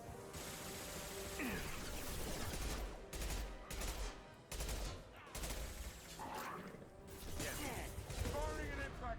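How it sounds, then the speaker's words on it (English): Impact shot and burst fire from a gun in Mass Effect 2, dense rattling shots with mechanical clanks and a few sharp cracks, loud and continuous, with talk underneath. "Firing an impact shot!"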